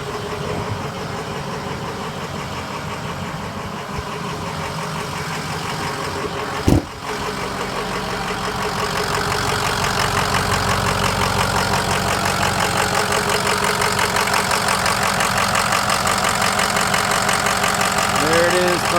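A 2007 Ford F-350 Super Duty King Ranch pickup idles steadily with a low, even diesel-style rumble throughout, broken by one brief sharp clunk midway, with the engine note growing slightly fuller toward the end.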